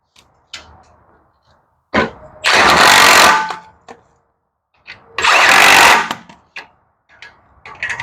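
Tools tightening a motor onto a Barbie Dream scooter being converted into a minibike: two loud, sustained power-tool whirs of about a second each, separated by sharp clicks and clanks of metal parts.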